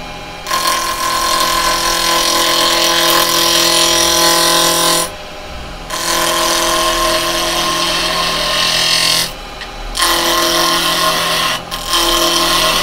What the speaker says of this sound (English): Right, so I'm going with a spindle gouge.